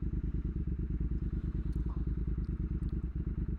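A 2022 Triumph Speed Twin with a rebuilt engine idling nearby, a steady low rhythmic thumping pulse with even, regular firing, alone with no talking.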